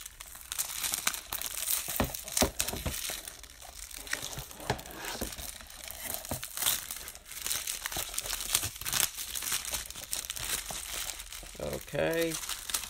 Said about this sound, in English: The plastic is stuck underneath on the spine